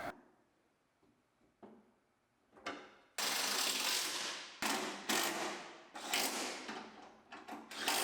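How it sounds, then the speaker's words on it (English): A ratchet working loose the fender bolts on a GM Yukon in a frame-swap rebuild: quiet shop tapping at first, then loud, sustained mechanical rattling bursts in quick succession, close up. "Now we have to take the fender back off so we can adjust this bracket."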